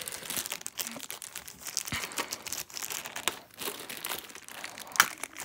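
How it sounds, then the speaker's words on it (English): Plastic packaging around a blank Orion V bus model crinkles and crackles up close as it is pulled off, a busy run of soft rustles with one sharper crackle near the end. "Let's just take it out of the plastic."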